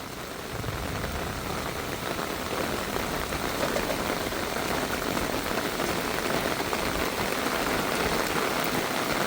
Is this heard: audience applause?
no